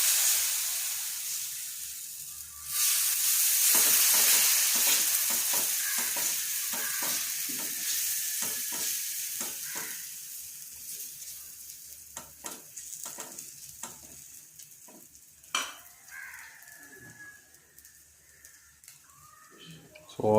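Millet adai dosa batter sizzles in oil on a hot pan, a loud frying hiss that swells early and then fades, broken by stirring and scraping clicks, while people talk over it.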